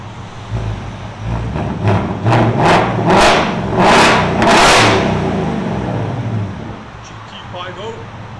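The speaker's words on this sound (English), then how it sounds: "It's got just a simple muffler delete on it right now." A 2024 Ford Mustang GT with a 5.0L V8 and muffler delete revs hard several times in quick succession, a loud close raspy exhaust roar rising and falling before settling toward idle.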